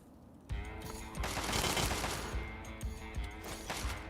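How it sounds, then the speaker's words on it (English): Automatic gunfire in Fallout 3, a sustained rattling burst followed by sporadic shots, fairly faint and somewhat distant, with no voices. "Somebody's shooting at me."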